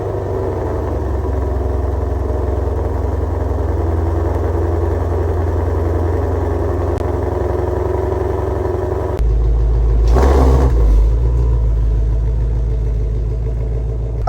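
Ford Shelby GT500 engine starting in quiet mode, a steady low rumble running throughout with a louder, fuller surge as it catches partway through, then settling to a smooth idle.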